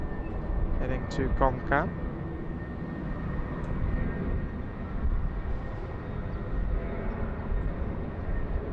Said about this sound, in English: Nice slow takeoff roll there from the Thai Smile.